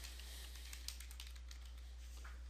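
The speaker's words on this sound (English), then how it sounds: "So I type that in." A computer keyboard typed on in a run of light, quick keystroke clicks, faint and close, with no talking over it.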